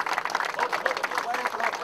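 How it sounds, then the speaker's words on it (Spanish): A crowd at a mass wedding ceremony in Nuevo Chimbote breaks into steady applause for a newly married couple, a dense wash of clapping with murmuring voices mixed in. "Los aplausos para ellos"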